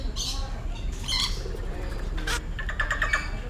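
Parrots at the Kuala Lumpur Bird Park give several bright chirps and squawks, close by and fairly loud, over steady crowd and background noise.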